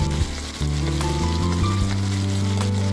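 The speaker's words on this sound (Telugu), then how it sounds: "ఇప్పుడు కళాయిలో నూనె వేడయ్యాక 1/2 స్పూను ఆవాలు, 1/2 స్పూను జీలకర్ర, పచ్చిమిర్చి, ఉల్లిగడ్డ ముక్కలు" Mustard seeds, cumin, green chilli and chopped onion frying in hot oil in a kadai, a loud, steady close sizzle with crackling pops and a stirring clatter throughout, no voices.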